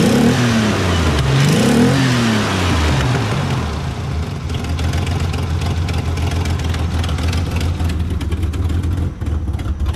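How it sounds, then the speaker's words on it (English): A GMC truck's 2.9 engine with a racing cam revs up and falls back early on, then settles into a loud, lumpy idle that fills the rest of the clip with no talking. "We'll give it a little rev here."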